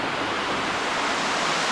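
Ellender Falls waterfall seen from its base in a forest: a steady, loud broadband rush of falling water filling the whole moment without pause or voices.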